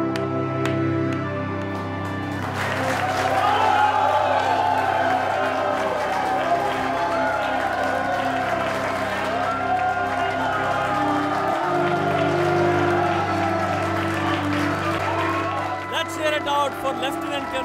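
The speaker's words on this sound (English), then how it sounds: "Let us all stand up and applaud our real heroes." An indoor crowd at a store stands and applauds members of the Indian Armed Forces, producing sustained clapping and cheering mixed with background music and chatter for the whole stretch.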